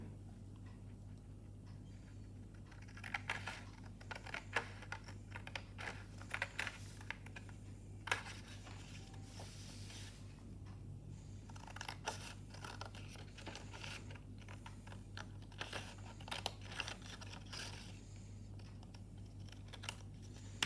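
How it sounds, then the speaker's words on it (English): Scissors cut a paper triangle out of a rectangle for a geometry model, giving a string of faint, quiet snips and papery clicks at close range over a low steady hum. "Now with the help of a scissor, we will cut out this triangle out of this rectangle."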